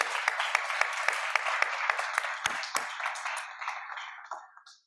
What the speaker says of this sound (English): Let's give them a round of applause to welcome them.